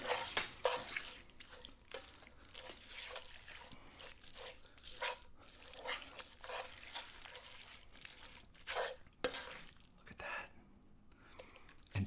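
A spoon stirs a thick, cheesy mac and cheese mixture with soft, wet squishing and sticky smacks. The quiet, close sounds come in irregular bursts.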